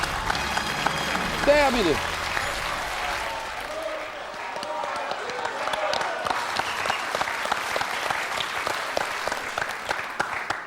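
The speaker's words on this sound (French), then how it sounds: "Très applaudi." Studio audience at a French TV quiz show applauds a contestant, starting after a short spoken word and rising into a sustained, dense patter of clapping that carries on to the end.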